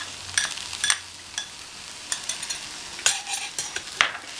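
Greens sizzle and crackle in a hot pan while a utensil scrapes and stirs them in quick, irregular strokes, close up, with no talking.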